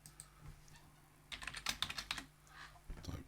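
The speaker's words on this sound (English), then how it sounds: "type pgAdmin" Quick light keystrokes on a computer keyboard, a short burst of clicks after a brief quiet pause, close and fairly faint with no talking.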